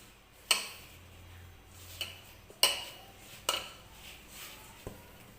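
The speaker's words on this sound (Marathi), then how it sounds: "तर थोडंसं दही मी परत वरून याच्यामध्ये टाकलेलं आहे आणि ते छान असं मी मिक्स करून घेते बघा" A hand mixes Mysore bonda batter with curd in a bowl, producing a few sharp clinks and taps against the bowl at irregular intervals over faint background noise.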